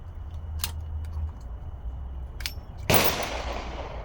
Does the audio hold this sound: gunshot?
yes